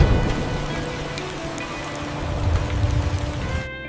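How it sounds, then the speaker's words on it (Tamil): Heavy nighttime rain in an animated story, a steady, dense wash of falling water that holds at a fairly even level throughout with no voices, cutting off abruptly right at the end. "அன்று இரவு நல்ல மழை பெய்தது."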